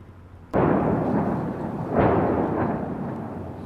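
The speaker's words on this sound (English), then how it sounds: "Every day and night here is punctuated now by the sound of explosions as artillery pounds the outskirts of Ukraine's second largest city." An artillery blast booms suddenly on the outskirts of Kharkiv, Ukraine, followed by a long rolling roar and a second heavy thud that echoes and slowly fades, loud and without speech.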